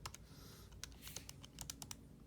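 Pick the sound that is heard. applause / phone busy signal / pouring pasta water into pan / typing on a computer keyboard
typing on a computer keyboard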